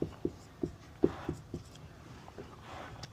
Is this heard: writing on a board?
yes